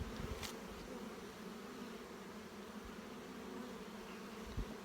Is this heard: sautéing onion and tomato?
no